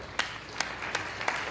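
A few scattered, isolated claps from an audience at a skeptics' conference talk, given as a show-of-hands style vote: roughly four separate sharp claps spaced apart over a quiet room background.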